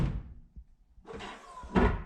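A Jeep JK door opens and Rock Slide Engineering power steps deploy quickly, giving a soft thunk, a stretch of mechanical whir, and a louder clunk near the end, with no talking.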